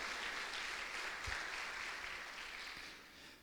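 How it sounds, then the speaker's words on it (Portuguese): A church congregation clapping during a sermon, faint and distant as a steady wash of palms that slowly thins toward the end. "As palmas para o Senhor."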